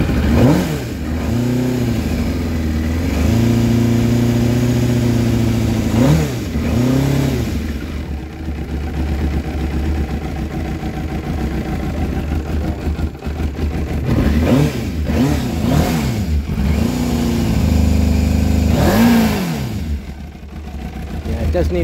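An MV Agusta F4 S Tamburini motorcycle engine, unstarted for months and running on old fuel with the choke on, revs up and down in repeated loud throttle blips over a rough idle, with someone talking close by.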